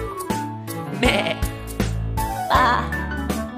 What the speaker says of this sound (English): The sheep on the farm say ba,